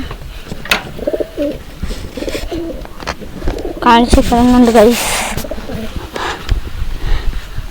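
Pet pigeons coo in a loft, low throaty calls repeating near the mic while someone talks over them.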